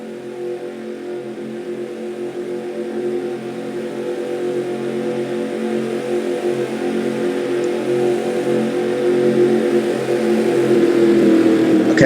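Several stock cars run pace laps together at Darlington Raceway, a steady multi-engine drone that swells gradually louder as the pack approaches, with no voices over it.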